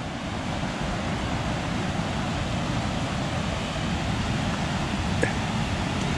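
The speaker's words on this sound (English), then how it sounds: "Quite a bit of force in that water level." River water rushes steadily over a weir after a day of rain, a loud, continuous broadband roar with no pauses, close by and heard alone with no voices.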